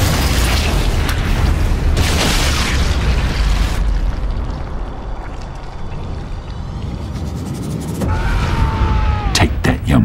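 Bomb explosion in the Sniper Elite 5 video game, dubbed with Team Fortress 2 voices: a loud, sustained rumbling blast fills the first seconds and decays into a low roar, followed by whistling and sharp bursts near the end.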